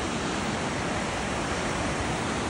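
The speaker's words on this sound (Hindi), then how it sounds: "यहाँ देखने नीचे कितना तकड़ा झरना" A powerful waterfall on a mountain trail roars in a dense, continuous, loud rush that fills the whole clip with no voices over it.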